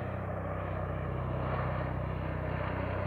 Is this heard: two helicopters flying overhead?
yes